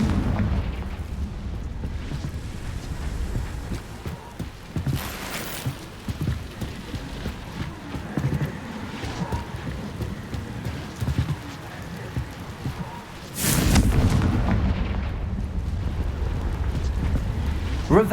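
Confringo blasting spells in Hogwarts Legacy, heard as a steady run of rumbling magical impacts with two sharp, louder bursts a few seconds apart, near and loud over a dense game backdrop.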